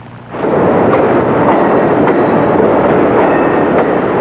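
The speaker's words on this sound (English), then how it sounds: "Amtrak's 150-mile-per-hour Acela Express, 3 minutes early as it pulls into New York's Penn Station" Amtrak's 150-mph Acela Express high-speed train pulls into New York's Penn Station, a loud steady rushing rumble that swells in after a quiet moment and holds on with faint clicking over the track.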